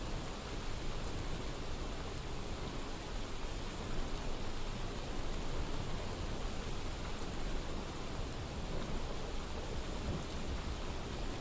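Rain and thunder in Skyrim, a video game, form a dense, steady wash of rainfall with low rumbling underneath, continuous and even throughout with no talking.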